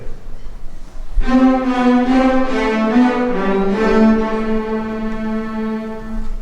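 A school instrumental band plays the slow, gloomy eight-note minor melody of the Dies Irae chant, each note held and sliding into the next, with no voices.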